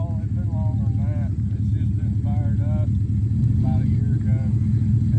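A 2003 Ford Crown Victoria engine runs while driving, a loud, steady low rumble that continues throughout as people talk inside the car.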